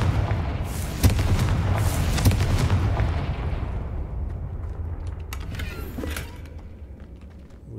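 A Confringo blasting spell in Hogwarts Legacy erupts in a loud, booming explosion with cracking debris, then rumbles and fades over several seconds, a few sharp creaks and knocks trailing near the end.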